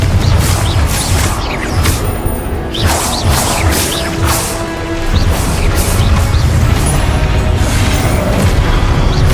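Spell blasts in Hogwarts Legacy, a string of loud crashing booms and whacks with brief whooshes, packed close together at first, then a short lull before a thick low rumble returns.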